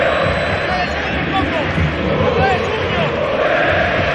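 Steady roar of a football stadium crowd with São Paulo and River Plate supporters at a 2005 Copa Libertadores semi-final, a dense continuous wash of chanting and noise without breaks.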